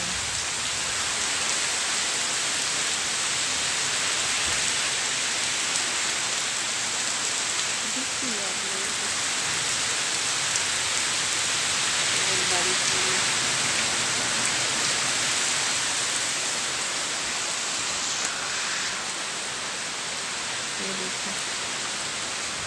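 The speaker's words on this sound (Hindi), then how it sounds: "बारिश" Steady monsoon rain falls outdoors in a broad, even hiss of drops on surfaces, constant and fairly loud for the whole stretch, with a few faint background sounds underneath.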